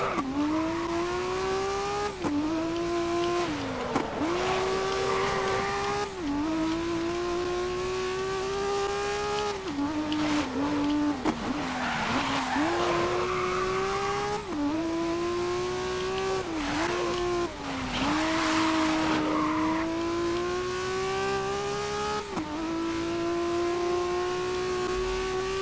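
Touring-class race cars from the racing game GRID on a final lap, engines roaring loudly and continuously with repeated rising revs through gear shifts and occasional tire squeal, no talking.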